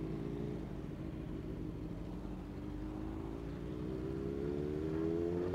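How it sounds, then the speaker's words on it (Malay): A sputtering motorcycle engine idles with a low, uneven, faltering rumble, its pitch slowly rising toward the end; steady and close, with no voices. "Motor abang macam ada semput-semput lah tadi saya perasan."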